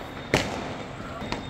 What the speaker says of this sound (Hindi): चारों तरफ से आतिशबाजी की ऐसे आवाज़ें आ रही हैं जैसे कि दिवाली हो।